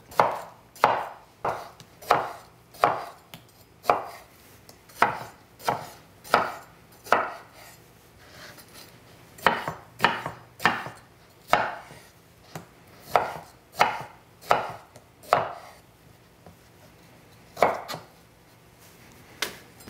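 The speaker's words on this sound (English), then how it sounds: "And I'm going to dice it." A kitchen knife dices food on a cutting board in quick bursts of sharp, even knocks, clustered in runs of three or four with short pauses between, close and crisp with no talking.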